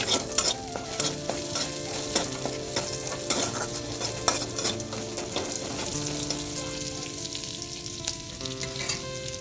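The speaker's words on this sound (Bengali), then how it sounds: "এবার শাক ভেজে নেব" Steady sizzling and crackling of greens frying in hot oil with garlic and a green chilli, with frequent clinks and scrapes of a spatula stirring the pan; no voices.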